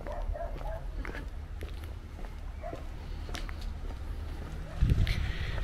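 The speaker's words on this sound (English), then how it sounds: "Whoops, I've upset a dog." A dog gives short, upset barks amid a busy outdoor bustle in a medieval castle village, somewhat distant and partly masked by background noise and voices.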